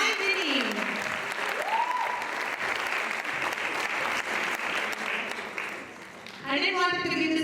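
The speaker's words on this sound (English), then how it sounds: "Big round of applause for my Vinny." Sustained applause from a large audience at a Rangapravesam dance debut, a dense, even clatter of hands throughout, with people talking over it and a brief lull near the end before it swells again.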